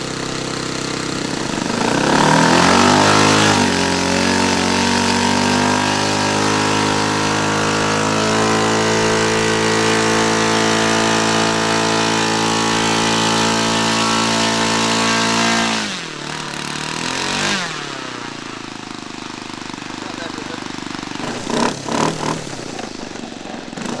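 A model aircraft glow engine on a quarter-scale Sopwith Pup warms up outdoors in frost, running steadily at a high, buzzing idle, loud and close, then drops off briefly before sputtering and revving in short bursts.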